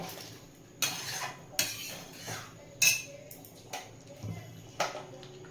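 A spoon stirs chickpea ghugni cooked with mutton fat in a pan on a gas stove, giving close, irregular metallic scrapes and clinks spaced about a second apart.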